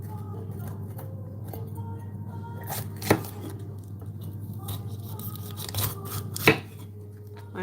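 Knife chopping peppers on a cutting board with dull blades, a few distinct sharp chops standing out over a steady low kitchen hum.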